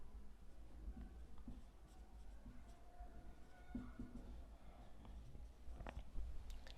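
Handwriting on a board during an accounting lesson produces faint, scattered scratching strokes in short bursts, quiet and close, with no speech.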